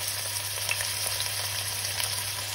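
A veal roast sears in hot oil with a bay leaf in the pan, giving a steady, close crackling sizzle with small pops throughout.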